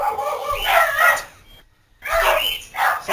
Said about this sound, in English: Dogs are super excited.